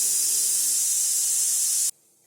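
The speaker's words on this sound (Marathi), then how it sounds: "कुकरची आता 6वी शिटी होते आहे." A pressure cooker whistle on its sixth release, letting out a loud, continuous, close hiss of steam that stops abruptly, leaving quiet.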